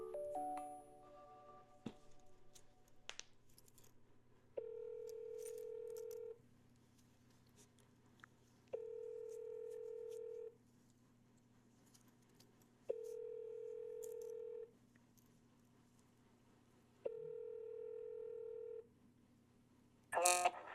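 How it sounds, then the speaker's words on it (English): A phone call's ringback tone repeats four times in steady, evenly spaced buzzing pulses over a low hum, preceded by brief dialing tones and ending with a click as the line picks up, with no talking. "Pick up the phone."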